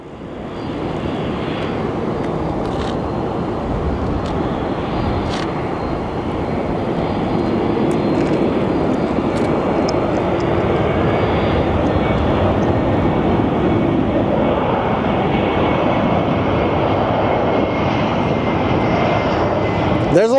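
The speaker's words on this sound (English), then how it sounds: "always get baffled when I see these planes pulling up" Airplanes taxiing at Phoenix Sky Harbor airport, a steady loud rumble of jet engines that swells gradually over about twenty seconds, heard from close by with a voice talking over it.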